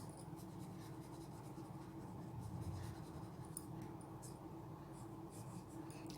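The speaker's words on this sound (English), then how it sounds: "So with this pencil what you have to do is just to give a little bit shade" A pencil that is not too sharp shades the edge of a still-life drawing on paper, giving a soft, continuous scratchy rasp of graphite strokes. It is quiet and close, with no talking.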